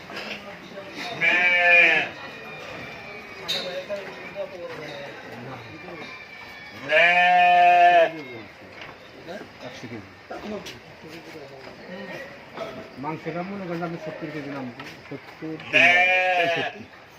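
Several loud goats bleat in long wavering cries, three distinct calls spaced apart, while a person talks between them on a goat breeding farm with native and foreign breeds in Enayetpur, Sirajganj, Bangladesh.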